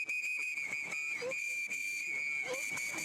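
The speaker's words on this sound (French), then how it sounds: "Et là on entend des coups de sifflet." Sharp, shrill whistle blasts sound repeatedly at a steady high pitch, with faint background chatter and clatter around them.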